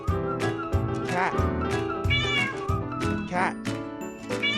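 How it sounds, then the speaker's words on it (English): A farm cat meows several times in drawn-out, rising and falling cries, loud and close, over a rhythmic musical backing. "Cat."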